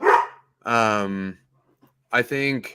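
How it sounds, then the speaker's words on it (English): A dog barks close by in a few loud, harmonic bursts, separated by gaps, while a person speaks briefly between them. "that's my dog"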